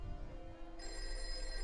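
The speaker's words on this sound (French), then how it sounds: "le téléphone de la chambre sonne." A hotel room telephone rings with a steady electronic trill, fairly faint and alone, with a brighter tone entering partway through.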